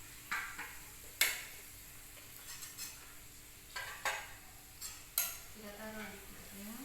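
A spoon or spatula scrapes and knocks against a frying pan of sautéed food, giving several sharp, irregular clinks and scrapes over a faint, quiet background.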